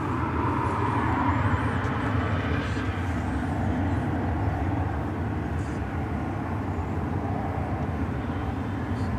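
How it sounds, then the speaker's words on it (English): An American Airlines Airbus A319 jet at Dallas/Fort Worth Airport gives off a steady, fairly loud engine roar with a low rumble that holds evenly throughout, heard from a distance and with no voices. "There is an Airbus A319. It's Flight 1024 American Airlines, and this is going to Bakersfield,"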